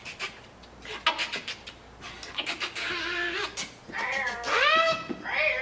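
A cat meows repeatedly, several drawn-out, wavering cries rising and falling, interspersed with scattered clicks and rustling nearby.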